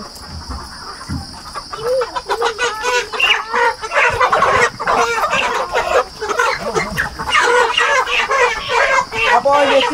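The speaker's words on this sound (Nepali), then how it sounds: "यो कुखुराले के भन्छ थाहा छ?" Broiler chickens cluck and squawk loudly and continuously up close, with overlapping calls and human voices talking in the background.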